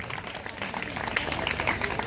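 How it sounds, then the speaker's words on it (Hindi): Audience at a Vaishnav conference festival clapping to welcome guests, a steady patter of many hands, moderately loud, with some talk mixed in. "आप लोग जोरदार ताली से स्वागत करिए सभी वैष्णवजन का"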